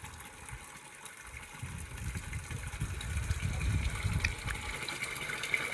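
Water gushes and fills containers at a Hindu ashram feast for a children's meal. A low pumping rumble grows louder and more turbulent after the first seconds, then holds steady.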